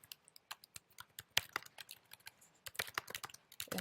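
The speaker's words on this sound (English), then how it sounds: "I'm going to start typing in my information" Irregular bursts of key clicks from a computer keyboard, close and fairly quiet, some keystrokes sharper and louder than others, with brief pauses between runs of typing.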